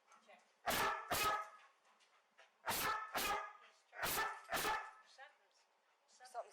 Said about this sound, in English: Dog's going off like crazy.